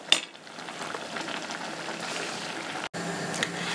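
Water boiling in a pot for blanching instant noodles, a steady close bubbling rumble with a soft clunk at the start and a brief dropout near the end.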